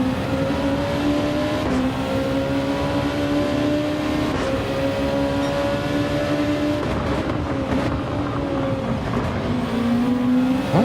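Race car engine in Gran Turismo 7 at the Autopolis circuit, a sustained high-pitched drone holding steady near full throttle with small pitch shifts through gear changes, loud and continuous with no talking.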